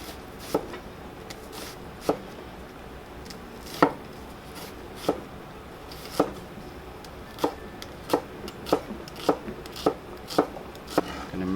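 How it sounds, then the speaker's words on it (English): A knife chops vegetables on a board for fish ceviche, producing about a dozen sharp, close taps at irregular intervals that quicken toward the end, with no talk. "now we're going to chop up our vegetables and throw them in"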